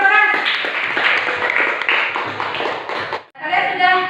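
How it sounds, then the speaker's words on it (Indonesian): A classroom group gives a short burst of clapping for the Pythagoras group, with a brief pause and then more clapping. A voice talks over it. "kasih aplaus buat kelompok Pythagoras"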